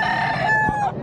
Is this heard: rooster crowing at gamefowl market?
yes